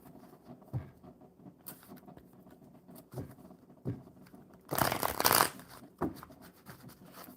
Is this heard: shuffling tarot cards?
yes